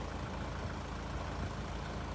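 Heavy offroad truck engine held at a steady low rumble under light throttle while a winch drags a car uphill; dense low-frequency drone with no talk, continuous and close.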